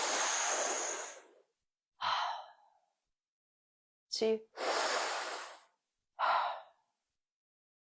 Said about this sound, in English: take a deep breath through your mouth, purse your lips